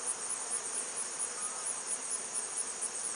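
Dense, even buzzing of many honey bees in an open hive, a continuous high hum held steady throughout, fairly faint and with no talking.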